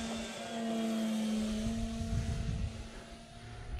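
A SIG Kadet Senior Sport RC model airplane with a large Value Hobby 6L electric motor flies overhead, a steady droning motor tone with a fairly loud and even level and a slight dip in the middle.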